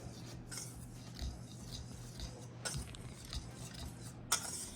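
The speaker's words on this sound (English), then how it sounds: "you just take a wire whisk and just blend it well" A wire whisk blends nutmeg and cinnamon in a bowl for carrot cake batter, making faint, close, rapid scratchy rubbing and light ticking against the bowl.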